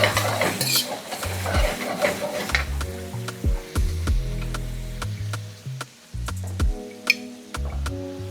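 Rice fries in a hot pan on a home stove and is stirred with a utensil, giving steady sizzling with repeated scraping and clinking strokes against the pan, close and clear.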